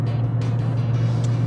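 A 50-year-old car's engine droning steadily at highway speed, a loud constant low rumble with road and wind noise throughout, no talking.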